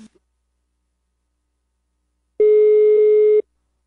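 A single steady telephone tone on a prank call, lasting about a second after near silence, clean and loud.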